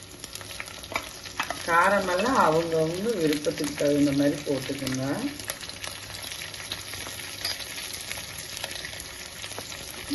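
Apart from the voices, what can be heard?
green chillies frying and crackling in oil for tomato kurma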